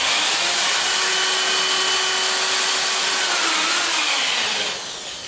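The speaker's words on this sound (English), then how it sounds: "Drill your first hole." A power drill boring a pilot hole in wood for a gaming table, with a loud, steady, continuous whine that holds for several seconds and then drops off near the end.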